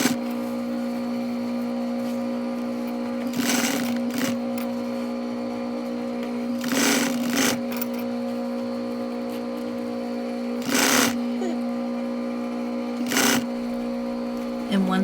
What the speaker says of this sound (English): we are going to sew a 1/4 inch seam allowance from side to side